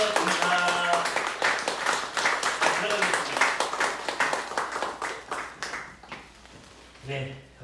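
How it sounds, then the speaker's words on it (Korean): A church congregation claps together during a Sunday worship service, with steady, dense applause filling the room for several seconds before thinning out, while voices talk faintly underneath toward the end. "우리 박수로 한번"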